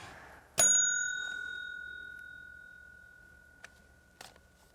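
A single bright bell strike rings out and its tone lingers, slowly fading, followed later by a couple of soft taps.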